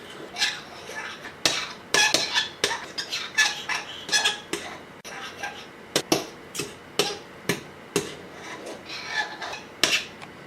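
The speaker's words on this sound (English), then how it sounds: "just with a fork or chopsticks, occasionally stir it" A fork or chopsticks clink and scrape repeatedly against a pot while stirring ramen noodles, a busy run of close metallic taps and rubbing strokes in an irregular rhythm, with no talk.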